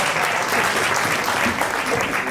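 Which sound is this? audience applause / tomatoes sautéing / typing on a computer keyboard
audience applause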